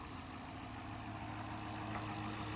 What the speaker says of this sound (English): V8 Hemi.